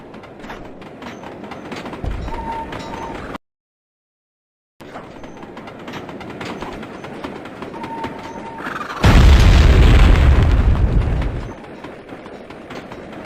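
A train caboose is blown open in the Sly 2 video game. Rumbling rail noise with clicks gives way to a loud, sustained blast and roar that fades out, with a short silent gap earlier and no voices.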